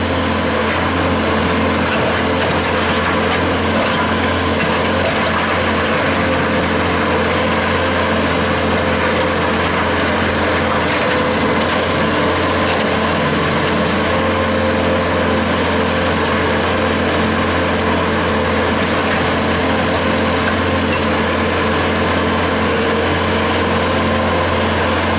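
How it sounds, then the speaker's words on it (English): A gas engine-powered auger drills post holes for a pole barn, running as a steady, fairly loud mechanical drone with a constant engine whine that holds for the whole stretch and has no talk over it. "So that's digging the post holes."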